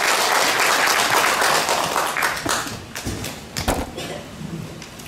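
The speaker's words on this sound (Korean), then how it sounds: "큰 박수 주십시오." An audience at a literary award ceremony and book launch applauds a guest, dense clapping at first that thins into scattered, distinct individual claps as it fades out.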